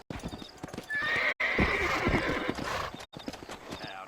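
Horses trotting through a town in the Red Dead Redemption video game, a steady clip-clop of hooves with occasional whinnies and neighs, close and fairly loud, with a game soundtrack underneath.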